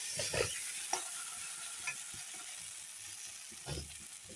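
Masala frying in a pan for a jackfruit and prawn dish, a constant quiet sizzle with a few light scrapes and clicks of stirring against the pan, close by and without talking.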